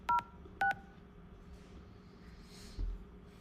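Two short DTMF keypad tones sound from a telephone dialing an extension on an office phone line, coming in quick succession, followed by faint line noise and a soft low thump near the end.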